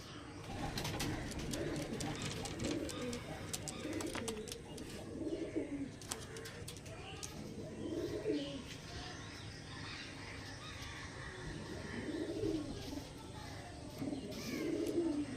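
Pigeons coo in repeated low, throaty phrases at close range among a flock of Andhra Kalshira and Punjabi pigeons offered for sale, with scattered chirps and a steady background hum.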